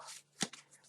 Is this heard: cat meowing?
no